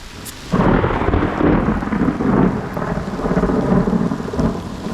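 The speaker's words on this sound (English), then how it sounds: "I think it's just kind of a quick little storm cell." A quick storm cell over open water during a kayak outing, with heavy rain hissing steadily and deep rolling thunder rumbling through, loud and close, no voices.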